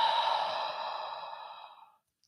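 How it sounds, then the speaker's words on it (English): A long, deep inhale drawn through a single nostril with the other held shut, a close, airy hiss that gradually fades out over about two seconds, with no voice. "Block one nostril and go deeply in."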